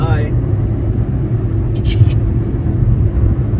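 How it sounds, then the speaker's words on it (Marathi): A car on a road trip from Kolhapur, Maharashtra into Karnataka gives a steady, close engine and road rumble that runs without a break. Voices talk over it. "इकडे सरदार गाडी चालवतोय"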